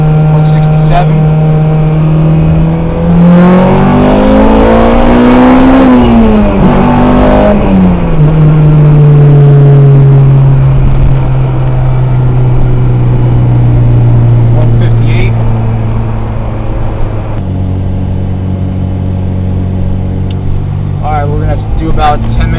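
A K20A2-powered Acura RSX drives on the road, its engine humming loudly from inside the cabin, revving up and back down early on, then settling into a steady drone at constant speed, with a voice talking over it.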